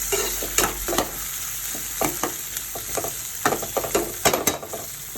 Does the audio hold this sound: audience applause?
no